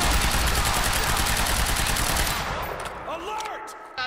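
Rapid automatic gunfire in the video game Quantum Break, a loud dense burst of continuous shots for over two seconds, then tapering into scattered effects and a final sharp report.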